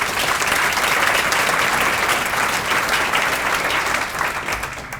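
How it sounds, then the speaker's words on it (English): A room full of guests at an education foundation breakfast breaks into sustained, loud, dense applause that holds steady for about four seconds before starting to thin out, with no voices on top. "How about another round of applause for all the work that's going on in the district?"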